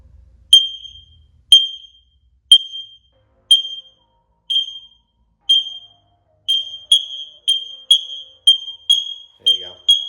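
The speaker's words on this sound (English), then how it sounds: "So the chirp that you heard is not the actual alarm. It's just a test mode." X-Sense wireless interconnected smoke detectors in test mode give sharp, high chirps, first spaced about a second apart and then overlapping faster as more units join in, loud and close, with a brief sound of handling at the end.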